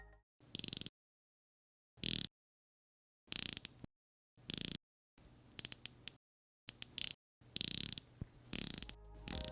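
Crisp ratcheting clicks come from the bezel of a Serica 5303 homage dive watch being turned, in short separate bursts with silent gaps between them, close up and fairly quiet.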